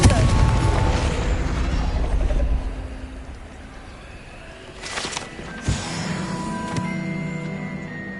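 A loud blasting boom from the Confringo spell in Hogwarts Legacy, with a sharp burst near the five-second mark and another around 5.7 seconds over a busy game soundscape. No one speaks.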